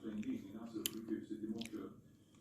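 An aunt chewing homemade meatballs made with bean sprouts, soft close mouth sounds mixed with quiet murmured speech.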